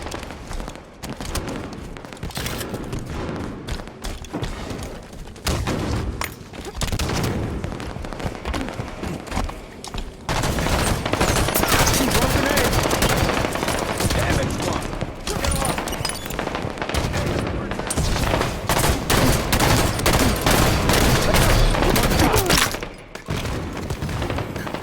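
Rapid gunfire from Halo 5 multiplayer, dense bursts and booms repeating throughout, loud and continuous and growing heavier after the midpoint, with announcer callouts mixed in.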